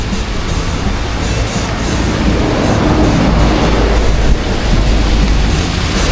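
Strong rushing water pours through a river sluice gate after heavy rain, a loud, continuous, dense roar without pauses or talking.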